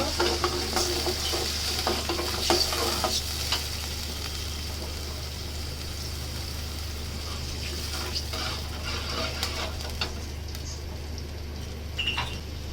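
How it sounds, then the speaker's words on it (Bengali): Oil sizzles and crackles in a pan of frying garlic as water is poured in, with occasional stirring scrapes and a low hum in the background. "রসুনটা ভাজা হয়ে গেছে, একটু পানি দিয়ে দিব।"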